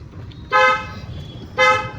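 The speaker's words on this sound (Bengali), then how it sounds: "হর্ন বাজাও" A car horn gives two short, loud honks about a second apart during a four-wheeler driving lesson, with a low road and engine rumble underneath.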